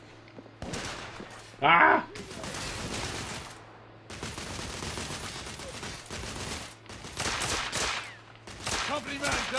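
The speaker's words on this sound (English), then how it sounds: "I'm under heavy fire" Heavy gunfire in The Order: 1886 comes as long, dense fusillades of rapid shots, loud and close, with a short yell between bursts.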